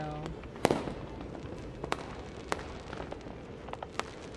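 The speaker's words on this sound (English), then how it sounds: "Beautiful fireworks" Fireworks in a Christmas-themed video game pop and crack in scattered sharp bursts, some near and some distant, against a soft continuous hiss.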